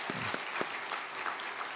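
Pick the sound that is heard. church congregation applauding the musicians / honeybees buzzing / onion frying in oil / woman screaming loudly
church congregation applauding the musicians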